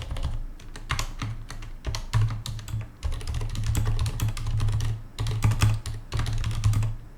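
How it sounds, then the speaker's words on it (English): Rapid bursts of clicking keystrokes on a computer keyboard while writing Python code, close and crisp, with short pauses between flurries and no voices. "I stopped typing here and it's predicted this rest of the sentence"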